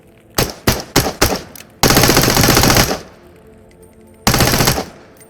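Fully automatic gunfire from a weapon in the VR shooter Into The Radius: several quick separate shots, then a loud sustained burst of about a second, a pause, and a second long burst, all close and without talk.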